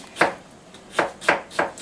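Kitchen knife julienning cucumber on a cutting board for cold Chinese noodles, five crisp close chops spaced about a third of a second apart.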